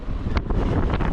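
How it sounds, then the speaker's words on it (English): Steady roaring wind buffeting the microphone, a continuous low rumble with gusty fluctuations and no voices. "For now at least, it's windy."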